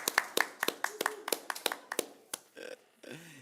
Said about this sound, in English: Yes, very worthy of applause.